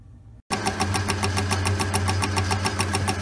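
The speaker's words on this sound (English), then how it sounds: "What I'm going to do is rough it out on the lathe and then take the rest off with the shaper." A metal lathe roughing down a shaft starts up after a brief silence, then runs steadily and loudly with a low hum and a rapid repeating ticking pulse, alone without talk.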